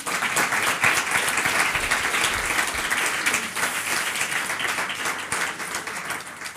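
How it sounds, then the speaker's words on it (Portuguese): Audience applause at a Spanish-language cultural event, a dense, steady wash of many hands clapping that holds loud throughout and tapers slightly at the end. "si quieren podemos agasajar con un aplauso a Celio"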